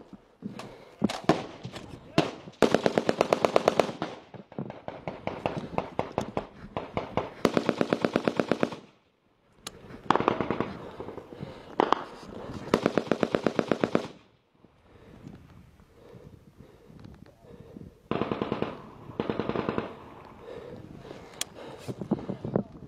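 Sustained machine gun fire from soldiers in an open field, loud, close bursts repeating over and over with brief pauses between volleys, and shouted voices heard intermittently.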